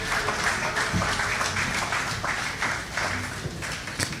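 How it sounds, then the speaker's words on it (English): Applause from an audience at an exhibition launch with dignitaries present, moderate and steady hand clapping spread across the room, heard at some distance with no talk over it. "Please give him a round of applause."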